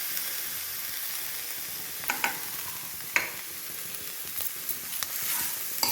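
Onion pieces and green chillies frying in a pan with bitter gourd, a continuous close sizzle and hiss broken by a few stirring scrapes, with no speech.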